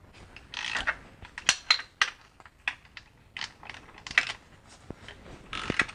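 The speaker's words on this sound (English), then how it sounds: "you just need to crack these with the ratchet" Ratchet cracking loose the transfer case bolts on a BMW X5 E53, quiet close clicking and ratcheting bursts with metallic creaks, coming in irregular short runs.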